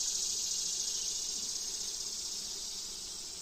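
Honey bees buzz steadily around hive frames during a colony inspection, a dense continuous drone close by with no voices over it.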